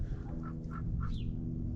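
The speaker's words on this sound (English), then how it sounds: "It's a goose." A goose gives a few short honking calls, spaced out over a steady low mechanical hum at a scrap yard, fairly faint and slightly distant.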